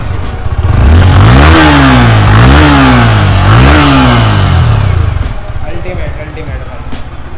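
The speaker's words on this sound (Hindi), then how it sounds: "अब जब बाइक स्टार्ट हो रही है तो ऑब्वियसली एग्जॉस्ट साउंड सुन लेते हैं बाइक की" A new 2021 Yamaha R15 V4 motorcycle engine revved loudly three times, each rise and fall rumbling up and back down, then settling to a rough idle with clattering.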